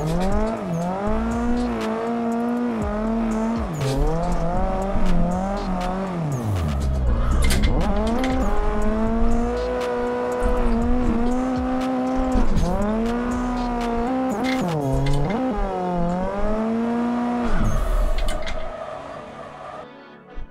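A car drifting in Assetto Corsa, with a loud engine revving up and down continuously and tires squealing through repeated slides, close and alone without talk.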